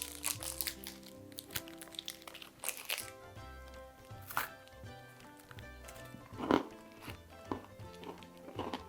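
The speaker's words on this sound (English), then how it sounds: "Crunchie, I'm guessing there's crunch to it." A Cadbury Crunchie chocolate bar being unwrapped and bitten, with close crinkling wrapper noise and several sharp crunchy snaps spread across the clip over a faint musical background.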